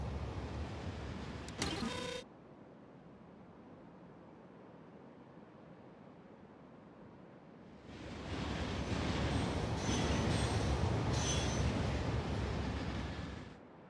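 Fast trains race in Factorio, a rising broadband rumble of rolling rail vehicles swelling loud after a quieter steady stretch, with a brief sharp tonal blip near the start.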